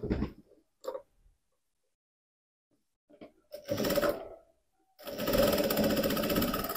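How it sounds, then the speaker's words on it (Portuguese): Sewing machine stitching a seam on a teddy-bear backpack: a few short bursts of stitching separated by silence, then a steady, loud run of rapid mechanical chatter to the end. "E vou passar uma costura."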